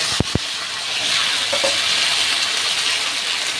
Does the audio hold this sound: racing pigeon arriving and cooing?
no